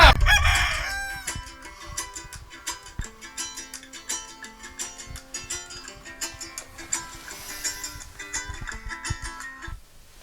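A rooster crows at the start, set over a busy electronic music track with steady beats and melodic lines that keep playing throughout.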